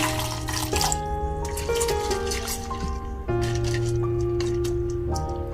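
Hot water is poured over ingredients to soak them while cooking green chicken masala, a close, continuous splashing and trickling with music playing underneath.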